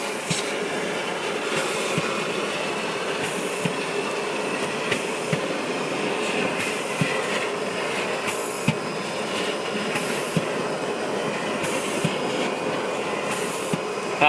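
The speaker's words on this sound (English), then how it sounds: "We change our settings to vacuum, turn on our vacuum." A steady, loud vacuum roar removing powder from a 3D printer runs without a break, with faint repeated clicks and knocks from machinery under the constant whoosh.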